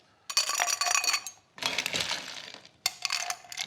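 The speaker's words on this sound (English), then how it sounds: "Our ice goes into our glass." Ice cubes dropped into a pre-chilled glass for a coconut cold brew, three bursts of bright clinking and rattling as the cubes tumble and settle, close and loud with no talking.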